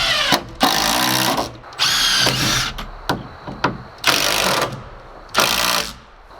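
Power drill driving screws into a wall stud during a cabin build, in several loud whirring bursts of about a second each, separated by short pauses and clicks.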